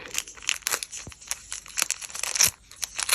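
Crinkly crackling and tearing of a paper packet being peeled open, in short irregular bursts close up, without speech.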